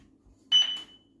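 A eufy Security home alarm base station gives one short electronic beep as its sync button is pressed during pairing, a sharp tone standing out alone against a quiet room.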